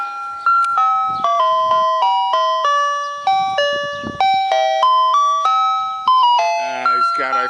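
The music box of a 1959 Ford Mister Softee ice cream truck plays a bright, chiming melody of clear, evenly spaced notes. The tune is loud and close, with faint mechanical clicks between some notes.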